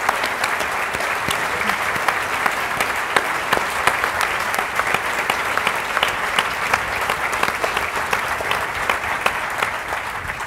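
Sustained audience applause at a Huntington's disease research forum, a steady, dense wash of many hands clapping for the researchers, with no voices over it for the whole stretch.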